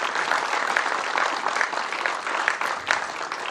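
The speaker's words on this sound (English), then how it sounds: "we owe a huge thanks to Governor McMaster, so please give him a big round of applause." An audience at a university ribbon-cutting ceremony gives a round of applause: steady, full clapping from many people, sustained evenly throughout at moderate loudness.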